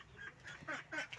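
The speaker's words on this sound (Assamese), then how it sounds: "হাঁহ আছে।" A duck quacks several times in a quick, nasal series, fairly faint against a quiet rural background.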